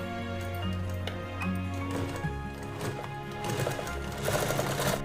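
A sewing machine stitches fabric for a makeup and travel kit: steady close rhythmic whirring and ticking of the needle, running continuously with small shifts in pace and no voices.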